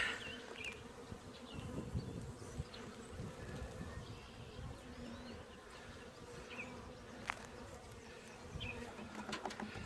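A dense swarm of honeybees drones steadily and close by as a hive is opened for inspection, a continuous buzzing hum with a few louder passes of individual bees and no talking.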